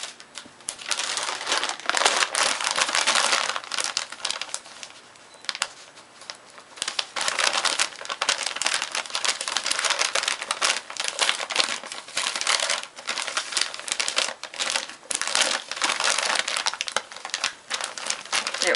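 Tape pattern pieces on paper being peeled and pulled off an object, a continuous close crinkling and crackling rustle with uneven bursts throughout.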